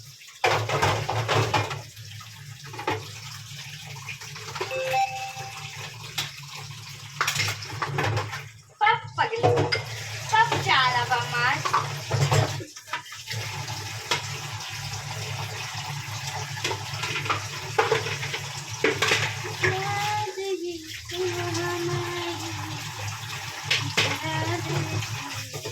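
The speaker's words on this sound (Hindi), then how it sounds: "हम जल्दी से बर्तन धो ले," Dishes are washed under a running tap at home, with continuous water flow, clattering pots and clinking cutlery throughout, and people talking over the washing.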